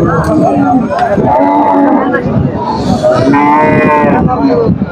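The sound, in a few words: cattle at livestock market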